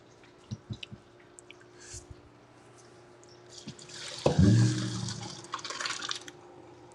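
Water from freshly cooked pasta pours out in a sudden rushing gush as it is drained, after a few light clinks and drips, then settles into a trickling, splashing flow, close and clear.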